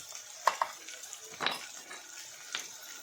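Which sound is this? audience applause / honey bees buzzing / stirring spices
stirring spices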